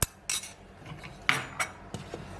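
A utensil stirs glutinous rice flour into plain water in a bowl for kimchi paste, making sharp, close scraping and clinking strokes at an irregular pace, with no voices.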